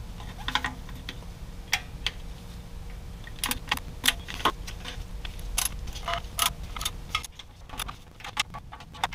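A ratchet gives sharp, irregular clicks, close and dry, in short bursts as it torques the transmission pan bolts on a high-mileage Lexus GX470 during a fluid flush and filter change. Nobody speaks.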